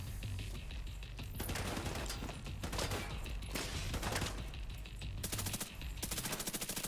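Rapid SMG bursts in The Division 2, a dense string of close, loud automatic shots with short pauses between volleys during a firefight.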